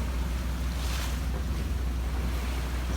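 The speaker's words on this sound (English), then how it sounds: "And some of those big swells coming," Open-ocean swells roll under a sailboat on an offshore passage from Bermuda to the Virgin Islands, a steady loud wash of water and wind noise filling the whole stretch with no voices.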